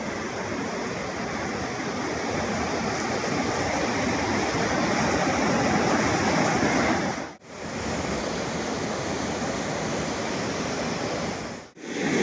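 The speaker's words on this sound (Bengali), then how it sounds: "জল যাচ্ছে হু হু করে," Fast river water rushes in a broad, steady roar at a scenic spot in the Dooars, constant and loud with a couple of brief dropouts; no talking.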